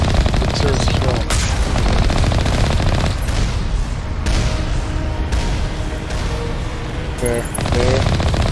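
Turret gunfire in Mass Effect Legendary Edition rattles in dense, continuous bursts, joined by booming impacts and electronic game effects. The firing is loud and fills the whole stretch, and a voice can be heard faintly beneath it.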